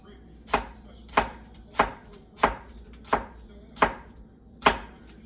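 A knife chops an onion into half-moon slices on a board for grilled chicken tacos, with seven crisp, evenly spaced strikes at a steady, unhurried rhythm, close and clear, with no voices.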